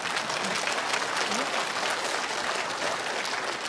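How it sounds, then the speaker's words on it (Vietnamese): An audience at a live Vietnamese comedy stage show applauds in a dense, steady wash of clapping that holds at an even level throughout. "các khán giả nam giới thấm ý là cái câu đấy nên vỗ tay hơi to"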